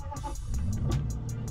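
Aston Martin Vantage V8 engine idling with a deep, steady low rumble at close range, a few faint rhythmic ticks above it, no talk over it.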